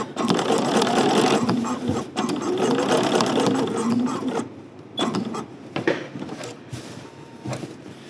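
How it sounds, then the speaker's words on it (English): Sewing machine top stitching an eighth-inch seam along a summery caftan, a loud steady mechanical whir running for several seconds, pausing briefly, then resuming in shorter bursts with clicks. "Okay, I am top stitching"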